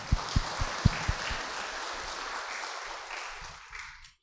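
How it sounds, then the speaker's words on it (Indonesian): Applause from a talk show audience at a Buddhist vihara, opening with a few sharp, close claps over a soft wash of clapping that gradually fades out and stops near the end. "Tepuk tangan dulu dong."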